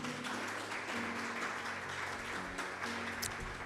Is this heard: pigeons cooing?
no